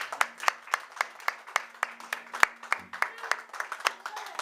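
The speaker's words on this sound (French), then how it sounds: "Est-ce qu'on peut acclamer la parole de Dieu?" A congregation claps after a French-language Bible reading of Mark 1:29–31, sharp distinct handclaps in a loose, fairly quick rhythm at moderate volume, with a faint hum underneath.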